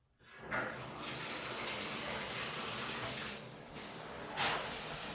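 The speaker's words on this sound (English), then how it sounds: "I'm still going to take a cold shower or a cold bath." Cold water from a shower or bath tap starts up and runs in a steady hissing gush, loud and close, with brief surges in force near the middle and end.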